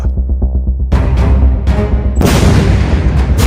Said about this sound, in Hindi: दूसरा धमाका